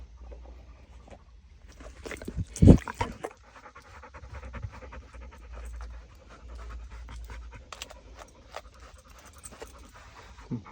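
A Catahoula dog pants close by in steady, quick breaths after deer-track and obedience practice, with a brief louder rustle or bump early on and quiet background.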